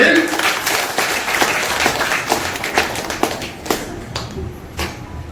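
Audience applause at an Independence Day children's day school event, a dense patter of many hands clapping fairly close and steady, thinning out toward the end with a few louder individual claps.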